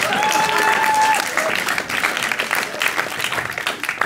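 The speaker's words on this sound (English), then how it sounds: "You can clap, eh?" An audience at a live talk breaks into a round of applause, a full continuous patter of many hands that starts loud and then thins out, with a voice briefly audible early on.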